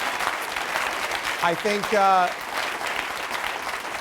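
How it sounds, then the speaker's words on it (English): An audience at a live show applauds a sponsor, a steady wash of clapping under a host's voice, with a brief spoken word breaking through in the middle. "So give them a round of applause."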